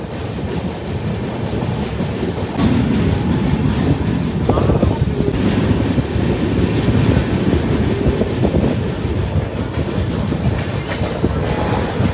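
Telangana Express passenger train rolling through Peddapalli station on platform 1 without stopping, heard from inside a general coach as a loud, continuous rumble with rhythmic wheel clatter and rushing wind, and a faint metallic squeal partway through.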